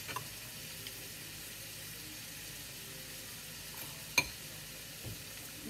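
Macaroni being stirred into vegetables sizzling in a pan: a quiet, steady frying hiss with soft stirring scrapes and one sharp utensil tap partway through.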